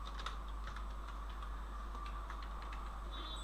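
Numbers typed on a computer keyboard, a quick run of light, close key taps at an uneven rhythm over a steady low hum, with no talking.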